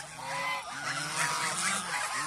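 First-batch young geese on a farm, grown large, calling in a continuous chorus of overlapping wavering honks, fairly close and steady, with no speech.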